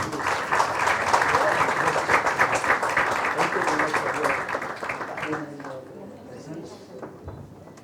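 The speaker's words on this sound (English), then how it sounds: "A big round of applause, please." A roomful of guests applauds at an architecture book launch, dense clapping that starts strong and gradually thins and fades toward the end, with some voices murmuring as it dies down.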